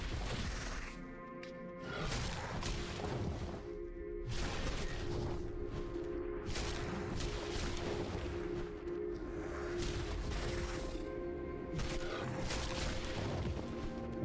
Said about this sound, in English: Ooh, that explosion worked.